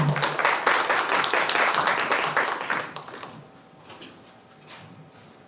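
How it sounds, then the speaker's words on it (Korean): Audience at a political party meeting claps to welcome a speaker, a loud burst of applause that fades after about three seconds into a quiet room with faint scattered sounds. "큰 박수 부탁드리겠습니다."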